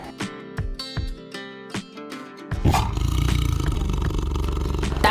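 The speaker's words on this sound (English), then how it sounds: "tiger" Tiger giving one long, loud, rasping roar that starts suddenly after a few light percussive musical taps and sustains close up to the end.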